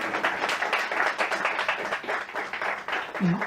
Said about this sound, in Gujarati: એકવાર ફરીથી જોરદાર તાળીઓ યાર